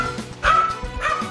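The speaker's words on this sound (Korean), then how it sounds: "너네 짖는 소리 바깥에서도 들리더라" Two dogs at home barking and yipping at a visitor arriving, loud and close, with sharp repeated barks and whimpering tones packed into a short burst.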